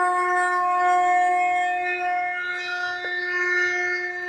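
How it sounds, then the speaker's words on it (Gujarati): An electric aarti machine plays a conch shell sound: one long, steady, loud horn-like drone that holds unbroken for several seconds, close and alone. "શંખનો અવાજ સાંભળો તમે"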